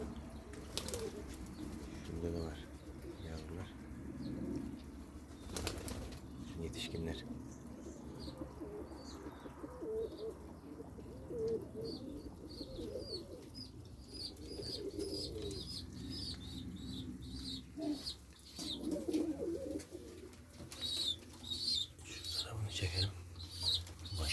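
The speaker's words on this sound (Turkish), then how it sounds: "Beyaz güvercini" White pigeons cooing in a coop, soft low murmuring coos that continue steadily through the scene, with occasional chirps and wing flaps and faint voices talking in the background.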